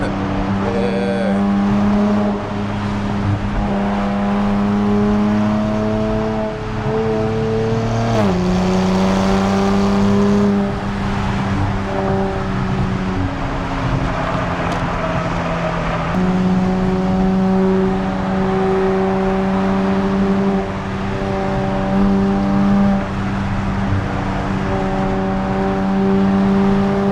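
A Nissan Z NISMO fitted with a track exhaust revs loudly and close, its engine note climbing and falling through sustained pulls with a raspy exhaust tone, and no voices are heard.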